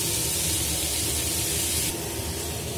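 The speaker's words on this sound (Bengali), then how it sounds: "আমি এখন ফ্রাই করছি" Amla (Indian gooseberry), steam-boiled and then frying in a pan for pickle, a loud, steady spray-like sizzle and hiss that drops slightly near the end.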